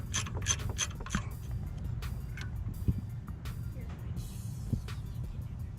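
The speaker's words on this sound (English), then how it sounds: "So now I'm going to remove this 13mm bolt from the back of the alternator." A hand ratchet clicks rapidly in quick strokes while removing a 13mm bolt from the back of the alternator on an LT1 engine in a 1994–96 Chevy Impala SS, Caprice or Buick Roadmaster, heard close and fairly quiet.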